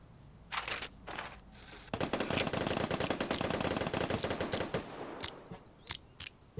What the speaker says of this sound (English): That was a whole clip from a Thompson going off